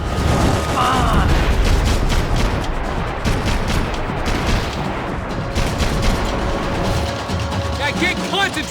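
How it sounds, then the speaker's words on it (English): Gunfire in Max Payne 3, heavy dense shots and booms with bullets whizzing amid chaotic combat noise, voices shouting in the mix. "I can't concentrate with bullets whizzing past my head."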